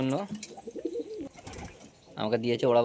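Flying pigeons coo softly nearby in short rounded bursts, partly under someone talking.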